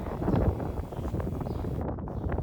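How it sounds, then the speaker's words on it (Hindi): Strong, cold wind on a high mountain ridge trek in the Siran valley buffets the microphone in a steady, loud, rough rush with no talk. "तेज़ हवा चलती रही और शदीद तरीन ठंड रही।"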